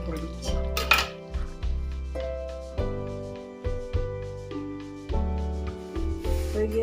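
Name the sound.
pot lid being set down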